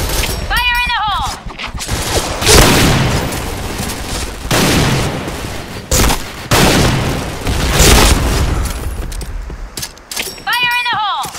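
Video game combat with grenade explosions and gunfire: repeated heavy booms and rapid bursts of shots in several loud waves, with brief pauses between and short chiming effects at the start and end.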